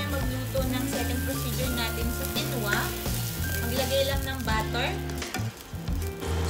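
Four scrambled beaten eggs sizzling and frying in a pan, a steady crackling hiss with stirring scrapes, while background music plays along.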